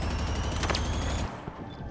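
Sniper rifle fire in the Halo video game: dense, loud rapid gunfire with sharp repeated cracks over a heavy low rumble, which cuts off abruptly partway through and leaves a quieter tail with one faint later shot.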